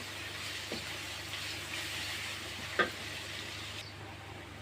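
Panch phoron spices frying in a pan give off a soft, steady sizzle, quiet and continuous, broken by a couple of faint scrapes of a stirring spoon, with no talking.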